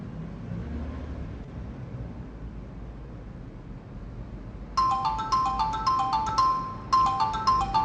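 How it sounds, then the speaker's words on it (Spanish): A mobile phone ringtone goes off in a lecture room about halfway through, a bright repeating melodic electronic tone in two bursts over steady background room noise. "Perdonen, que no había puesto el teléfono en silencio para silenciarlo."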